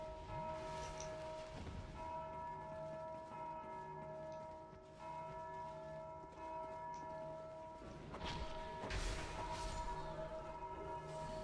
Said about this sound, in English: these bells around the area